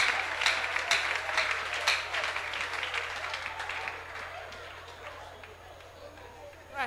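A church congregation claps for Jesus in a burst of applause that starts strong and gradually fades over several seconds, with voices murmuring underneath.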